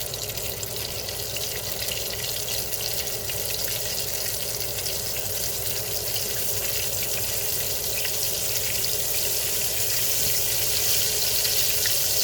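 Squirrel meat pieces, still wet from overnight soaking and not egged, frying in a pan: a dense, steady hiss and crackle of hot oil that stays constant throughout with no voices.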